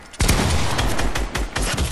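Loud video game gunfire with a sharp opening blast followed by a quick series of punchy shots fired close by in an irregular rhythm, with no voices over it.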